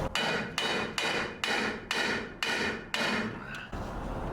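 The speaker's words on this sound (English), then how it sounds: "Hammer it in there. You got the hammer?" Eight evenly spaced hammer blows ring out, sharp metallic strikes in a steady rhythm, close and clear, during an oil leak repair on a turbo LS Nova, then a quieter hum at the end.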